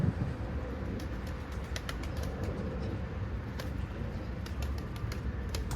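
Racing pigeons, about 300 birds, in a loft under a shed roof, cooing softly and continuously with occasional wing flaps, heard close against steady low background noise.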